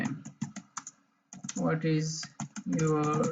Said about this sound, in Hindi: अब स्पेन के अंदर मैं कोई टेक्स्ट लिखता हूँ